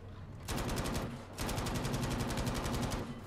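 Sustained automatic machine gun fire in Battlefield 5, two long rapid bursts with a brief pause between them, loud and close with a dense, rattling rhythm and no talking.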